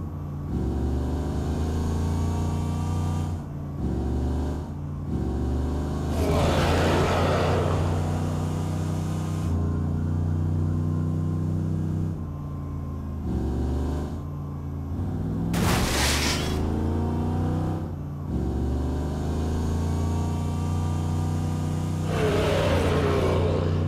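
Steady engine drone of a car cruising in Saints Row The Third Remastered, with revving swells and a couple of sharp bursts over a long continuous stretch, no voices.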